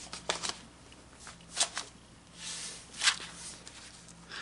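Paper envelope from an Elvis Presley fan club CD handled up close, with a few crisp rustles and crinkles spaced out over several seconds, quiet and with no talking.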